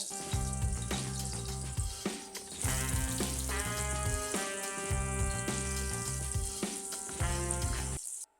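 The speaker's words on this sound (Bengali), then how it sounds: "প্যানটা গরম হওয়ার পর তেল দিয়ে দিলাম তেলটা গরম হওয়ার পর আমি মাছগুলো দিয়ে দিচ্ছি" Rohu fish pieces frying in hot oil in a pan, with a steady sizzle lasting throughout, close and fairly loud, layered over a strong tonal, rhythmic background, and ending abruptly.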